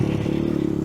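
A 125cc off-road motorcycle fitted with a cheap aftermarket exhaust and 22mm carburetor holds a steady, close, buzzing rev with a rough, raspy engine note.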